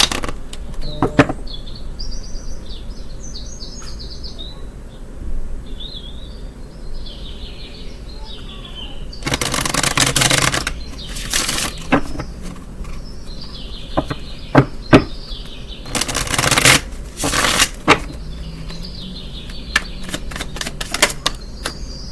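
Tarot cards shuffled by hand in bursts of crisp riffling and slapping clicks, some long and dense, others short taps, with birds chirping faintly in the background.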